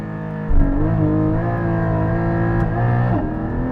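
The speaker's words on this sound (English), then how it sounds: "When I'm launching it, it's spinning up the wheels" A 2021 Porsche Cayman GT4 launches after a sudden engine surge, the loud, close flat-six droning steadily as the revs hold up and dip while the wheels spin, with no voices.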